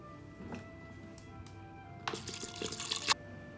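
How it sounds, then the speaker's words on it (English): Water is poured into a pot of soaked dal and rice with turmeric for khichdi, a soft trickle building into a louder splashing pour before stopping, with faint drips and no talk. "Now add in half teaspoon of turmeric powder and 3 cups of water."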